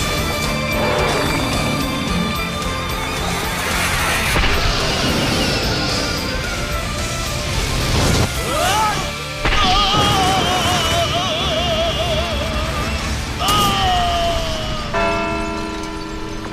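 A loud crashing impact from Natsu's Fire Dragon Iron Fist attack in the Fairy Tail anime, with dense blasting noise and tonal whooshing sweeps running through the whole stretch.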